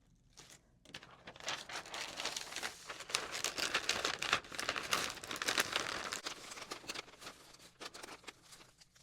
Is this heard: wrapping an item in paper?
yes